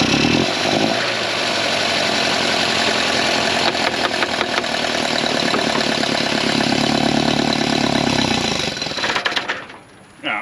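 The four-cylinder engine of a 1967 Volvo Amazon 122S runs rough and loud on flooding SU carburetors with a stuck float, a steady uneven chugging idle that cuts out abruptly near the end.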